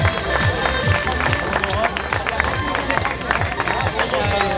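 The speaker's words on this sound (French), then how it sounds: "applaudissements" Applause at the 2019 Triathlon du Jura long-distance awards ceremony: steady, dense clapping from a crowd for the whole stretch, mixed with crowd murmur and voices.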